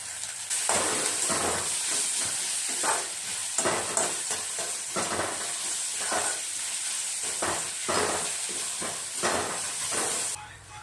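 Spices, salt, turmeric, cumin, green chilli, ginger and garlic frying in fish oil, a loud steady sizzle broken by repeated scraping stirs at an irregular rhythm.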